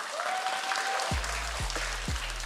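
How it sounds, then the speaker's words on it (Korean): Crowd applause rising after a brief tone at an LCK esports event, a steady dense wash of clapping that fills the space, with a few low thumps underneath. "바이탈 선수에게 큰 박수 부탁드립니다."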